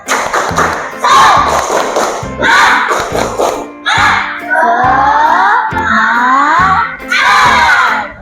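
A group in a class activity performs the tepuk semangat clapping chant, loudly calling out words in unison between rhythmic clap patterns. Bursts of shouted chanting alternate with thumping claps across several phrases.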